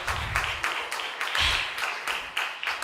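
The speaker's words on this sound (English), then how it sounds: "so you can all clap for me as editor" Audience applause at a Filmfare Awards press conference, a roomful of people clapping for the magazine's editor in broad, steady bursts with faint voices underneath.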